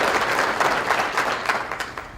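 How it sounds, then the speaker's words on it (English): Steady applause from an audience, a dense patter of many hands clapping continuously at moderate loudness. "Please give a round of applause to Brent Swinton"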